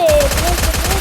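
A P90 submachine gun fires in the Free Fire video game, a loud rapid burst of evenly spaced shots lasting about a second.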